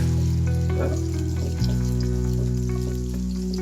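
Chopped onions sizzle loudly in a hot pan, a steady crackling fry with occasional pops and a slight shift as they settle.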